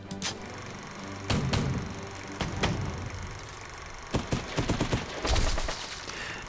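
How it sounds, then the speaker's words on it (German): Enemy gunfire in the World War II desert strategy game 1943 Deadly Desert: scattered sharp shots and short rattling volleys, moderately distant, with no voices. "Der Feind schießt und konzentriert sich auf den Infanterietrupp, kriegt ihn aber nicht klein."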